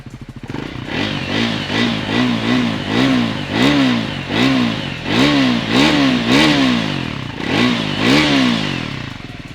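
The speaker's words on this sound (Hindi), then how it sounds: "Let's hear the exhaust of this Scrambler 400X." Triumph Scrambler 400X motorcycle exhaust revved repeatedly from a steady idle, each blip rising and falling in a loud, close rhythmic series of about a dozen throttle bursts.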